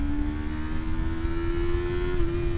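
A motorcycle engine revving steadily in second gear, a close, continuous droning hum with a faint rise in pitch, alone without speech.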